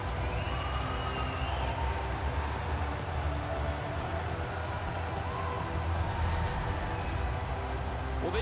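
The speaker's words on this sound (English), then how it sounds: "Scores! That's a quick first strike. Home team up. The crowd is cranked." Arena crowd in the NHL 19 hockey game roars and cheers steadily after a home-team goal, a dense wash of noise with scattered whoops, continuous and fairly loud throughout.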